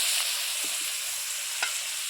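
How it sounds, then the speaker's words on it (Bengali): Chopped onions go into oil used for frying large fish pieces and heads, a steady close hiss of frying with a few light knocks of a stirring utensil. "এবার ওই তেলের মধ্যেই দেবো পেঁয়াজ কুচি"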